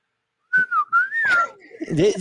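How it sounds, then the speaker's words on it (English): A polished stainless steel Cybertruck Cyber Whistle is blown in a few short, wavering toots that rise and slide in pitch, close and fairly loud, followed by a brief rough, breathy sound. "the limited edition Cyber Whistle is a premium collectible made from medical grade stainless steel with a polished finish"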